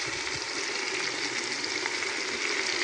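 A spiced stew of three meats with celery in a pot sizzles steadily and loudly while being stirred, with faint scraping under the even hiss.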